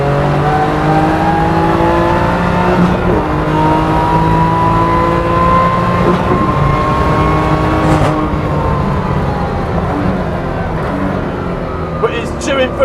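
A tuned 510 bhp BMW M2 Competition pulls hard on a race track, its engine note rising steadily through high gears near 146 mph, loud and continuous in the cabin with a brief shift dip, while a driver talks over it.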